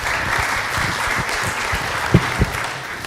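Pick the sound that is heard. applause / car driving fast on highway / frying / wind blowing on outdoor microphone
applause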